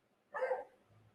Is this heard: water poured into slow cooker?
no